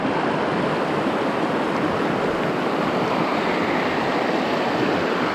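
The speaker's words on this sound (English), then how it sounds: "Taking her down through these rapids." River rapids rush steadily on a wilderness canoe trip down the Steel River, a loud, continuous broadband roar of churning water filling the whole clip with no voices.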